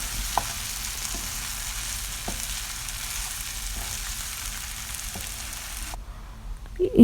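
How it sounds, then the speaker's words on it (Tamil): Boiled mashed potato being mixed into poori stuffing frying in a pan, with a steady dense sizzle and a few soft stirring knocks that suddenly drop away near the end, close and unaccompanied by talk. "அதையும் சேர்த்து நல்லா மிக்ஸ் பண்ணிக்கலாம்"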